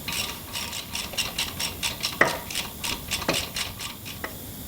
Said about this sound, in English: Get that 13mm socket back into action. I'll do these up nice and tight as well.